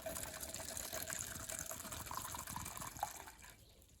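Diesel fuel drained from a 2012 Range Rover Sport SDV6 pours steadily into a container, a continuous splashing gurgle that tapers off near the end.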